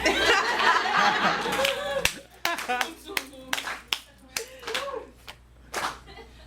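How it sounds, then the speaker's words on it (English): Audience at a ladies night event at The Venue on 35th clapping in scattered bursts among crowd laughter, cheering and talk, the applause growing sharper and more rhythmic toward the end. "Just keep clapping"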